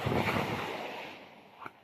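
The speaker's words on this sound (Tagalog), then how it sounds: "lakas ng alon" Strong sea waves surge and wash near the microphone along a shore, a broad rushing roar that slowly eases, with wind buffeting and a brief splash near the end.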